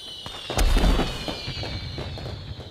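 Fireworks bursting at a celebration in an animated series, one loud close bang followed by a string of smaller crackling pops and fading booms.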